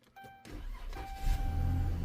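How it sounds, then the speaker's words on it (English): A car with push-button start, just fitted with a new fuel pump, cranks briefly and fires up, settling into a steady low idle close by, with a faint whine from the starter at the outset. "Hey, it fired right up."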